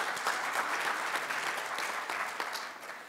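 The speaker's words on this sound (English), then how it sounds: "I think everyone deserves a round of applause for being here" Audience clapping steadily at a Caltrans District 4 Black History Month celebration, a dense, even round of applause from a seated crowd heard close and alone for several seconds.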